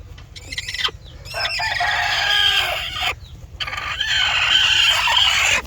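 On a poultry farm, chickens cluck close by while a rooster crows in long, loud calls, the crowing rising twice with short pauses between.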